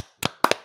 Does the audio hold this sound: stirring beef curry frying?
no